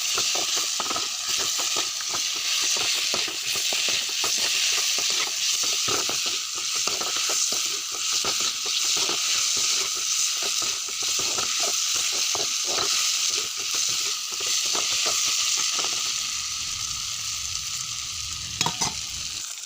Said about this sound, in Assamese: কচু আৰু আলু একেলগে দি দিম। ইয়াত কচু আৰু একেলগে দি অলপমান লৰাই দিছোঁ।